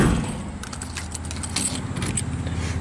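A set of keys for a Chevy Silverado 3500 jangles close by in a quick metallic flurry, with a faint low hum underneath.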